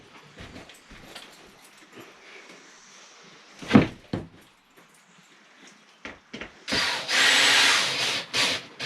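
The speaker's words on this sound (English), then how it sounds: "I can put a screw in it." Power drill driving a screw into plywood: scattered knocks and scrapes, a short whirring burst, then several longer, louder drill runs in quick succession near the end.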